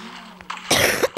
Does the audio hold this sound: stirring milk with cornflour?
no